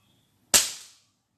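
A single sharp airgun shot cracks out nearby at an outdoor tourism spot, a sudden loud snap that decays quickly into silence.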